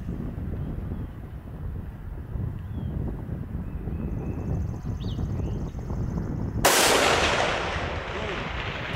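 A single rifle shot fired at a target outdoors, one sharp loud crack that cuts in suddenly after a stretch of steady wind rumble, then fades back into the wind.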